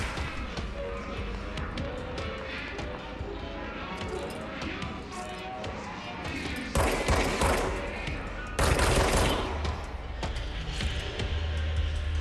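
Gunfire rattles through combat in the video game Control, dense bursts and sharp shots over a busy mix of game sounds, growing louder in two heavy stretches toward the end.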